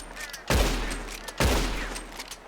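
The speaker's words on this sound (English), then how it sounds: "yeah, that's considered rapid fire in 1860" Two loud, close shots from a Spencer repeater carbine, an 1860s lever-action rifle, fired about a second apart, each with a sharp crack and a fading tail.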